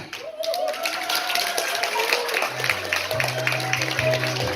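Steady applause from a crowd, a dense wash of clapping with some music underneath.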